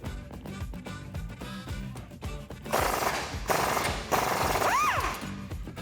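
Impact wrench rattling in rapid bursts to remove a shock absorber bolt with a 15mm socket on a 2015-2019 Ford F150, loud and close, with a squealing tone near the end.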